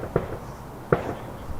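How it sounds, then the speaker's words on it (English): Two sharp distant gunshots crack out about three-quarters of a second apart, faint and echoing over the quiet outdoor ambience of a county cricket ground. "Gunshots going off somewhere."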